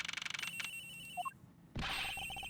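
A telephone rings inside an airplane's flight attendant room in the video game Ace Attorney Investigations, a rapid trilling ring followed by a short chime and a louder burst, faint and close.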